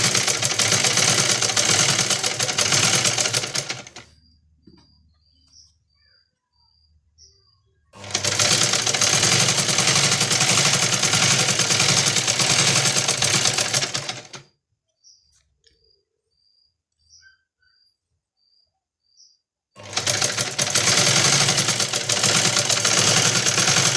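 An electric sewing machine stitches the back neck of a blouse in three loud, steady runs of rapid whirring, separated by quiet pauses where faint bird chirps can be heard.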